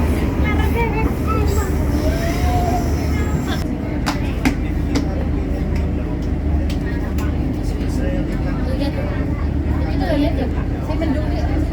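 Train running between Jogja and Wonogiri near Solo Kota station, a continuous low rumble and rattle from inside the carriage with scattered clicks and knocks, steady throughout with faint voices underneath.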